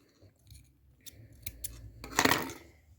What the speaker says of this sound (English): cut our yarn